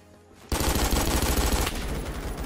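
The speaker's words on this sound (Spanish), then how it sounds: "Qué pedazo de headshot me acaban de dar" Rapid automatic gunfire in the Roblox-style shooter Phantom Forces, a loud sustained burst of closely spaced shots that starts abruptly and rattles on for about two seconds with no talking.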